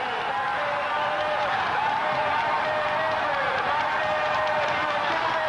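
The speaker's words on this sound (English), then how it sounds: "An absolute tumultuous roar as Bogart went up the climb." A crowd roars along a climb at the 1998 World Road Cycling Championships men's road race, a dense continuous wall of cheering and applause that stays loud for the whole stretch, with a voice faintly beneath.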